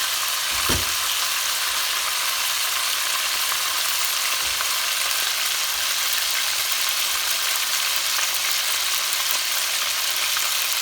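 Garlic ginger paste sizzles in hot oil for chicken korma, a loud, continuous frying hiss that holds steady throughout, with a couple of faint knocks.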